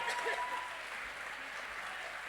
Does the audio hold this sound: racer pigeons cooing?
no